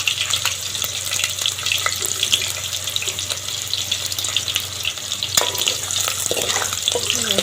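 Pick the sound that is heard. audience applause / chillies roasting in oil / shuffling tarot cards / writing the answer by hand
chillies roasting in oil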